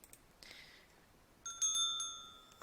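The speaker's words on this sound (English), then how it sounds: "There's a ringing sound, and it isn't my alarm clock. Someone must be ringing the bell to my room." A bright, metallic electronic bell rings in a video game, a brief chime first and then a louder, sustained ring a moment later in an otherwise quiet room.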